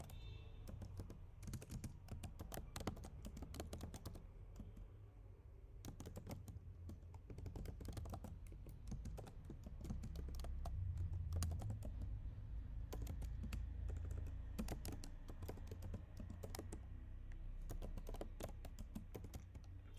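Code is typed on a computer keyboard: quiet, close key clicks in irregular bursts and runs, with short pauses, continuing for about twenty seconds with no talking.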